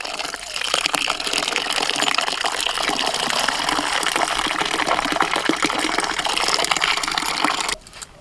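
Water gushing in steadily at a farm plot, a loud, continuous rushing flow close by that cuts off near the end.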